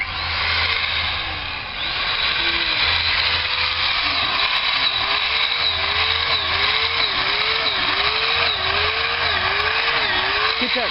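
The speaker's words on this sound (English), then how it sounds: "And I put it on the angle grinder because it's just a ton faster, and than like a regular hand drill." An angle grinder fitted with a drill bit bores holes into a log for mushroom plug spawn, a steady high whine that dips and rises in repeated cycles as it bites into the wood.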